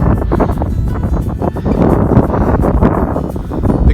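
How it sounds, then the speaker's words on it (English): Strong wind on an exposed rocky stretch of the Appalachian Trail, a steady loud buffeting rush across the microphone with gusts swelling and easing throughout, no voices heard. "you probably can't hear me because it's windy"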